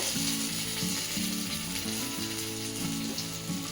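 Curry leaves crackle and sizzle in hot oil while tempering avalakki (flattened rice), a steady close frying hiss broken by rhythmic scraping and clicking from stirring in the pan.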